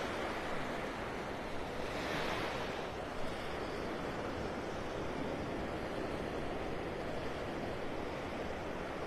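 Ocean surf washes steadily onto Vanderbilt Beach in North Naples, Florida, a constant broad hiss of waves mixed with wind buffeting the microphone, faint and continuous with no voices.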